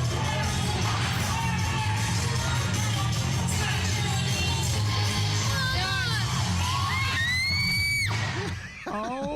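A crowd of spectators screams loudly and continuously as a tiger leaps toward them, with shrill yells and whoops rising above the din before it suddenly cuts off near the end.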